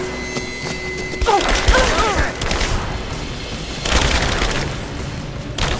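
Booming blasts and crashing impacts from a firefight in Rise of the Tomb Raider, set in abandoned mines, fill the scene with dense, continuous rumble, surging loudest in two bursts amid chaotic battle noise.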